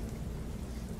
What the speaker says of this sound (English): stepping on your front porch to good, mellow rain